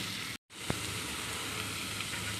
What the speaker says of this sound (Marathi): आता यामध्ये धुवून घेतलेली मटकी टाकली आणि याला चांगलं व्यवस्थित फ्राय करून घेतोय.